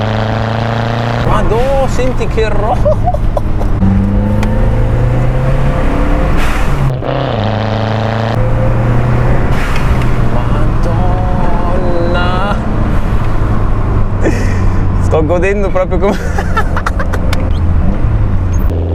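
A Lancia Delta Integrale Evo 2 drives along with a steady, loud engine drone that rises and falls as it shifts through gears, while someone talks over it in Italian.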